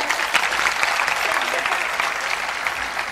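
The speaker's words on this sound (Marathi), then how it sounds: "या साऱ्या दुर्गांसाठी एकदा जोरदार टाळ्या वाजवूया." Enthusiastic audience applause at a public guidance event in Solapur, a dense, steady wash of clapping hands sustained throughout, fairly loud and with no talk over it.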